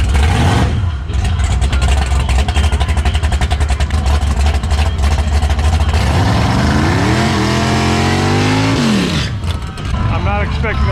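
Drag race cars, including a nitrous big-block Malibu and a turbo C4 Corvette, launch hard at an eighth-mile strip, with loud, sustained engine roar and rising revs through the pass while voices talk over it.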